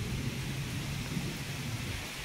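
Heavy rain pours steadily over rumbling thunder during Cyclone Montha near Mahanga, Cuttack, Odisha, a dense, continuous roar close by, with no voices.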